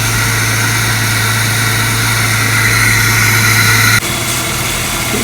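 Jeep WJ engine running at idle during a radiator inlet and blown hose repair, a loud, steady close-up rumble with a constant low hum, shifting to a slightly different tone partway through and continuing smoothly, with no voices.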